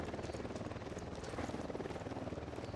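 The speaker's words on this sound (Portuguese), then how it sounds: "Helicóptero da unidade, em patrulha." A patrolling helicopter in the video game Ghost Recon Wildlands throbs steadily with a fast, rhythmic rotor chop and a broad engine roar, holding a constant moderate loudness throughout.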